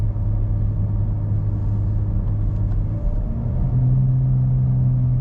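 An automatic car being shifted manually down from fifth gear gives a steady, close engine drone and rumble. The pitch steps up noticeably partway through as the revs climb higher, with no talking.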